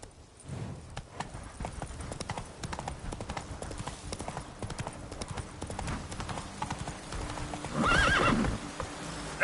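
Roach, a horse in The Witcher 3 game, gallops in a quick continuous run of clip-clop hoofbeats, then lets out a loud whinny near the end.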